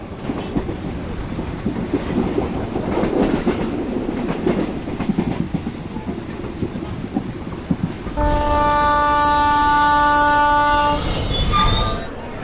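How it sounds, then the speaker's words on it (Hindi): A train rumbles and clatters into a railway station platform, wheels squealing, then a loud sustained horn blares for several seconds before fading out. "मुंबई से दिल्ली जाने वाली मुंबई एक्सप्रेस प्लेटफॉर्म क्रमांक 5 पर आ चुकी है।"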